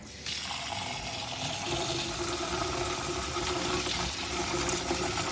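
Rice is washed in water for a coconut curry dish, with steady sloshing and splashing up close as the grains are stirred and rinsed, continuing alone for several seconds.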